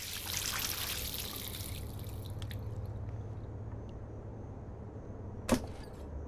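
Water runs from a sink tap in the video game Life is Strange, a soft continuous trickle that thins out over the clip, ending with a sharp click near the end.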